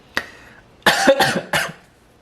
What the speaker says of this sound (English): I'm not cutting that cough.